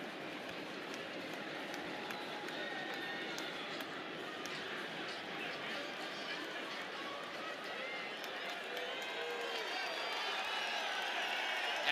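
Stadium crowd at a Charlotte FC soccer match against Inter Miami, a steady roar of many voices swelling slightly toward the end as a corner kick is set up, with a commentator talking over it.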